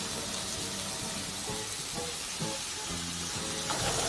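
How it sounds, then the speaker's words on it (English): Onions sizzling and crackling in a hot pan for chicken teriyaki wraps, a steady broadband frying hiss with repeated bursts where the food is tossed, close and fairly loud, no voices. "So into that we'll add our onions."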